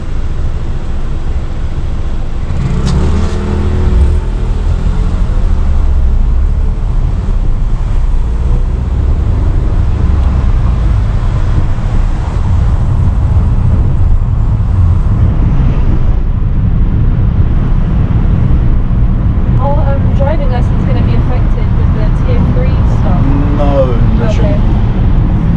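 A learner driver's car pulling away in traffic, its engine and road noise a continuous loud rumble with wind buffeting, while people talk inside the car.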